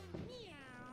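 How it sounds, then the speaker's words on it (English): A single synthesized cat meow from the video game Super Mario 3D World, rising then falling in pitch, clear and close, with no talking over it. "Meow."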